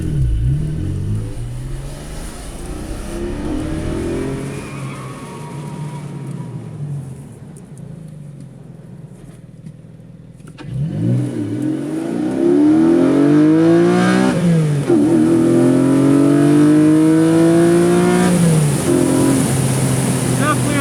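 A 2022 Porsche 718 Boxster GTS 4.0 flat-six on track, its engine note sweeping up and down through repeated loud revs and gear changes, with a voice talking over the quieter opening stretch.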